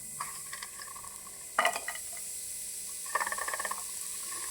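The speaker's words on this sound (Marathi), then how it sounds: "कांदा चांगला तांबूस कलरचा होईपर्यंत भाजून घ्यायचा आहे" Chopped onion frying in a pan until golden brown, a faint, steady sizzle with a few brief scraping stirs and clinks, close by and with no talking.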